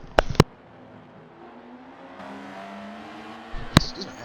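Race cars in a racing video game at Monza brake hard into the first turn and accelerate away, a steady engine drone with short sharp clicks near the start and again toward the end.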